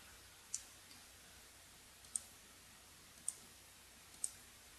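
Four sharp, isolated computer mouse clicks, spaced irregularly about a second apart, quiet and close against a faint hiss, with no voices.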